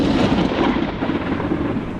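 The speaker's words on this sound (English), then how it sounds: "There was a thunderstorm that night, which is extremely rare for Oregon, but it does happen." Thunder from a thunderstorm rolls as a dense, continuous rumble, loud and unbroken, with a hissing wash layered over the low roar.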